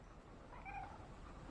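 A cat gives a single soft meow, faint and close-ish, rising briefly over a quiet background hum in a workshop setting, with no one speaking.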